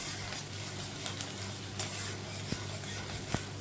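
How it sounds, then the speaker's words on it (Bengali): Chopped onions for a tilapia curry sizzle steadily in a hot pan, with a few sharp clinks of a spoon stirring against the metal. "এখন আমি পেঁয়াজ ঢেলে দিলাম, যে পেঁয়াজটা কাটা ছিল। তো এটাকে একটু ঢেকে ঢেকে ভাজছি"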